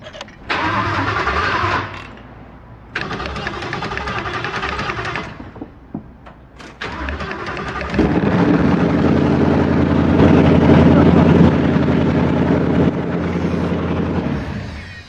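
A loud custom car engine cranks and sputters in short bursts, then fires up and roars steadily, its heavy rumble filling the space close by with no talking over it.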